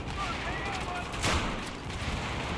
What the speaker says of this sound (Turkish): Bomba da bok gibi patladı RPG.